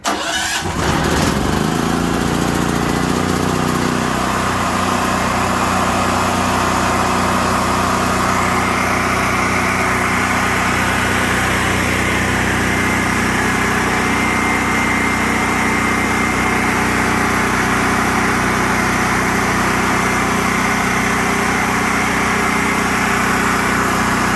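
A Generac RS8000E portable generator, its carburetor just cleaned, starts with a brief crank and then runs on as a loud, steady engine drone close by, with no talk.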